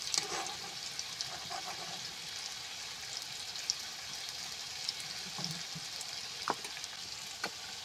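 Pieces of fish frying crisp in hot oil for a fish bharta, giving a steady, soft sizzle with scattered pops and a few light clinks, with no talking.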